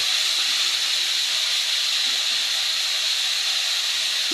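Ripe jujube fruits go into a hot pan of spice tempering for chutney, giving off a steady, bright sizzling hiss that stays even throughout, with no one speaking.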